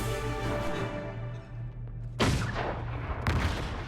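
Two heavy booms of cannon fire from Guild Wars 2 crack out about a second apart over a droning game soundtrack, each blast loud and sharp with a decaying tail.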